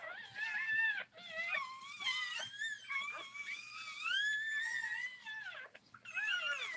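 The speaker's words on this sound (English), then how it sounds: "You're like singing like little puppies." Newborn puppies whimper and wail in high, wavering cries that rise and fall almost continuously, close by, during a dog giving birth, with only brief pauses.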